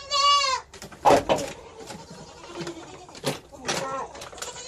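Goats on a farm bleating close by, several wavering calls with a person talking quietly in between, plus faint rustling and handling noises.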